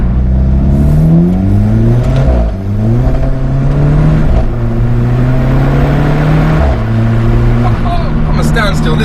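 The 1.75-litre turbocharged engine of a lightweight Alfa Romeo 4C Spider pulls hard, its loud droning note climbing through the revs, dipping briefly at a shift, then rising again close by inside the car.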